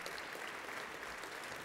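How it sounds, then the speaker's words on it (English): An audience at a college hall of champions banquet gives a collective round of applause, a steady wash of clapping that sounds faint and distant. "let's give them a collective round of applause"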